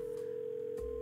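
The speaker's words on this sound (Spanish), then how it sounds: "Llamamos por teléfono, pero nadie contesta." A telephone in the horror game Dead Plate gives a steady, unbroken electronic tone that holds for the whole moment with no answer, with a faint low thump near the end.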